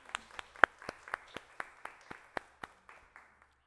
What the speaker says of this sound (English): please give these gentlemen in the room a round of applause for joining us and being here today.